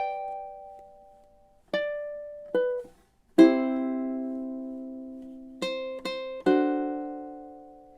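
Ukulele playing two measures of Margaritaville: a sparse, syncopated pattern of plucked notes and strummed chords, some ringing out for over a second, others in quick bursts, clean and close with no voice.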